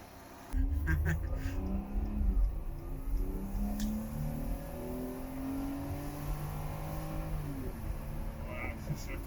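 Engine of a 2009 Mazda Tribute with misfire and cam timing codes, heard from inside while accelerating, the pitch climbing and dropping as the gears shift, with voices talking over it.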